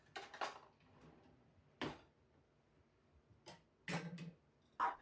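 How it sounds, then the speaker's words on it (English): Dishes are put away in a home kitchen, giving a few faint, scattered clinks and clatters of crockery and cutlery separated by quiet pauses. "Now I'm out in the kitchen and I am just getting some dishes put away"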